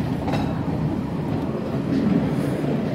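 A Swiss cog railway train runs steadily with continuous rumbling and rattling of the rack mechanism, loud and close from inside the carriage, with no talk.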